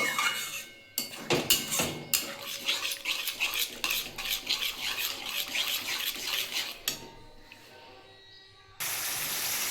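Pomfret curry masala with yogurt being stirred and sautéed in a pan, a utensil scraping and clinking against the metal over a steady sizzle, the stirring pausing briefly before a louder hiss at the end.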